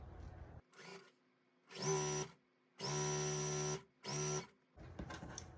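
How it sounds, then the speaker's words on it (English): A sewing machine stitches a bottom strip onto a Pieceful Baskets quilt block. The motor runs in four loud, steady bursts of varying length, separated by short pauses, with quiet handling noise between and at the end. "I'm gonna go ahead and sew this bottom strip on."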